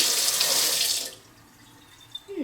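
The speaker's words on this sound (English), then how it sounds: "As you see, the water does go in there, but it doesn't go on the counter." Water running from a faucet into a handle drip catcher on a counter: a loud hissing stream for about a second, then it stops, leaving quiet drips and a faint clink at the end.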